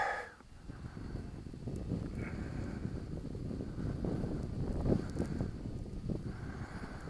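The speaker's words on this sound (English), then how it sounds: "Definitely a bit of wind now, which I could do without" Wind buffets a microphone outdoors at an RC flying field where a Dynam Tiger Moth model plane is flown, a continuous low rumbling roar with gusty swells.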